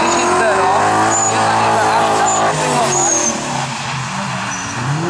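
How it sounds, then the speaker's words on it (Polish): A drift car driven by Paweł Trela slides on the handbrake across a very slippery track at the 2011 SSS DriftCup in Lublin, a loud engine drone with tire squeal under steady commentary. "Trela kontroluje auto za pomocą ręcznego, nie potrzebuje nawet używać gazu, jest tak ślisko, że auto sunie pędem."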